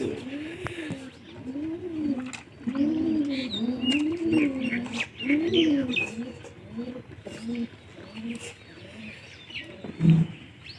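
Domestic pigeons kept alongside chickens coo in repeated rolling phrases, close and fairly loud, with a sharper brief sound near the end.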